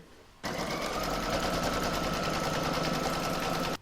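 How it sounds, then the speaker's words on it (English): Embroidery machine stitching an in-the-hoop scissor holder and pin cushion design, starting after a brief quiet moment and then running steadily with a fast, even mechanical hum close by, with no talk over it. "Pop it back into my machine and stitch round number 2."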